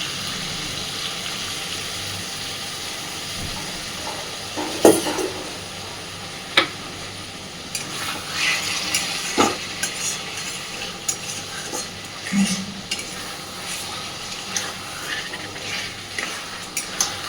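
Dhaba-style chicken curry masala, loosened with a little water, sizzles in the pan under continuous stirring, with scattered spatula scrapes and knocks over a long stretch.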